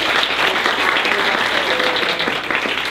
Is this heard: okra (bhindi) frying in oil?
no